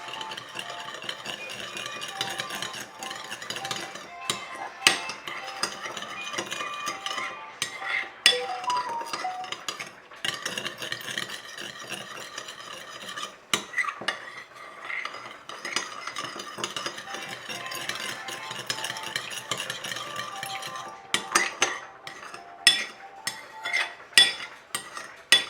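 A utensil stirs and scrapes through a sauce of sesame oil and chili garlic sauce for one-pan garlic noodles, soft repeated clinks and scrapes against the pan at a quiet, steady pace.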